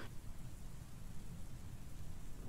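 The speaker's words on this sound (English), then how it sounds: "But I need to turn the rain off." A rain sound effect plays quietly on a livestream as a faint, steady hiss of rainfall with a soft low rumble like distant thunder, continuous and without talk.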